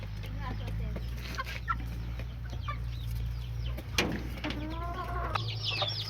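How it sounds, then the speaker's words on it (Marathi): Aseel chickens, including a newly bought laying hen and fighter-breed chicks, cluck and call intermittently in a farm yard over a steady low hum, with a few brief sharper calls. "हे नवीनवाली कोंबडी जी आणलो होतो ते अंडे द्यायला चालू केली."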